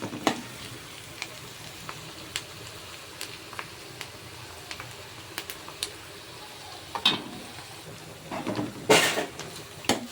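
Onions frying in hot oil in a pan while cooking a raw mango fish curry, with a soft continuous sizzle broken by intermittent scraping stirs and a louder burst of spatula clatter near the end.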